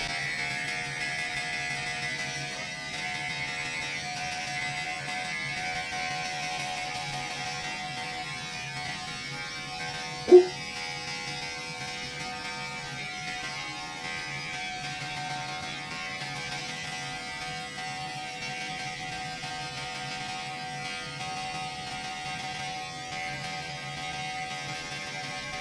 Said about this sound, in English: we're just gonna shave this thing down until it's all one guard open.